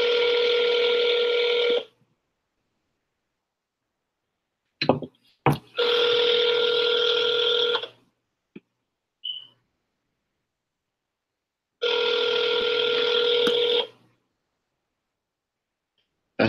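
An outgoing call rings out over a phone line with three long, loud bursts of steady telephone ringback tone, each about two seconds, separated by silent gaps and a few brief clicks.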